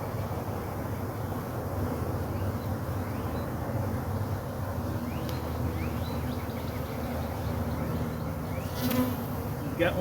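A dense, steady buzz of many honey bees at a hive being split fills the whole stretch, close and continuous, with a few brief louder passes near the end.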